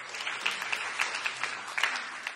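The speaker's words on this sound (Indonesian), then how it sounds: "Tepuk tangan yang meriah bagi Tuhan." A church congregation applauds in a steady spread of clapping, moderately distant and fairly soft, with a few sharper individual claps standing out.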